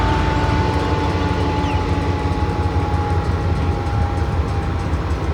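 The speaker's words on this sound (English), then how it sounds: "Looks cool when the train's sitting on that bridge" A freight train sits idling on a bridge, a loud continuous low diesel rumble with a faint steady whine on top, unchanging throughout and without voices.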